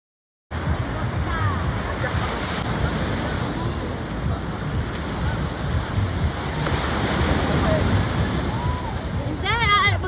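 Sea waves wash continuously onto a beach in a broad, loud roar with wind buffeting the microphone, and faint voices of people nearby.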